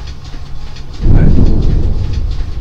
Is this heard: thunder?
yes